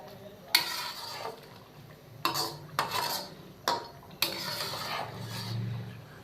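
Chicken karahi stir-frying in cooking oil, heard as a series of loud metal clanks and scrapes from a spatula against the wok in separate bursts, with a soft sizzle between them.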